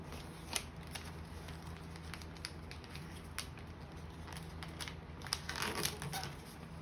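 Paper being creased and folded into a paper airplane, with soft crinkling and crunching rustles in a steady close-up run and a few sharper crackles near the end, no talking.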